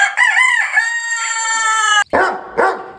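A rooster crows loudly and close by at a layer hen cage farm, with a long drawn-out call followed by shorter clucking bursts from the chickens, and no talking.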